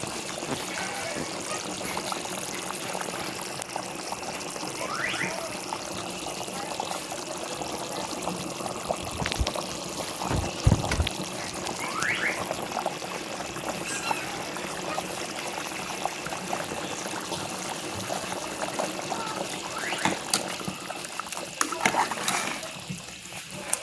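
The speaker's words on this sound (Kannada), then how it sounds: "ಇದೆಲ್ಲವೂ ನೀಟಾಗಿ ಕುದಿ ಬರಬೇಕು. ಒಂದು 15 ನಿಮಿಷ ಕುದಿಸ್ಬೇಕು" Chicken curry boils steadily in a pot, giving a continuous soft bubbling and gurgling at moderate volume, with occasional louder pops and splutters.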